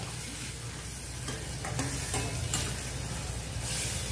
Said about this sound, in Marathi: हे चांगलं असं 10 ते 15 मिनिटं असं आपण सॉते करून घेऊया